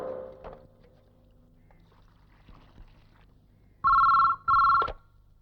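Telephone ringing during a payphone call, two loud electronic rings near the end after a quiet stretch with faint handling noise.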